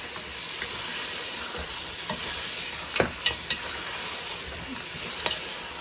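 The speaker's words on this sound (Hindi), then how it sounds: "तो अब हम इसको गोश्त को अच्छे से इसमें भून लेते हैं।" Mutton sautéing in a pan of spiced stock, with a steady close sizzle and hiss under a few sharp scraping knocks of stirring.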